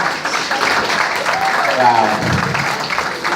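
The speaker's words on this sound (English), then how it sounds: "Can we give you a round of applause?" An audience at a town hall with the comptroller bursts into sustained, fairly loud clapping from many hands, with a person speaking over it briefly.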